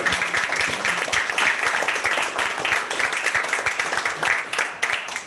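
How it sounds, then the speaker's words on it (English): At a school board meeting, the room applauds middle school girls who presented their science, many hands clapping crisply and continuously at moderate loudness throughout. "Those girls deserve an extra round of applause."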